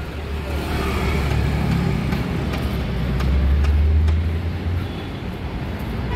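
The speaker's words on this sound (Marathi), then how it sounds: "म्हणजे ट्रॅफिक विरळ नाही आहे." Evening road traffic in Ahmedabad's Paladi area around 8 pm, a dense, steady roar of passing cars and heavier vehicles with a deep engine rumble swelling nearby midway, then easing, with faint background murmur.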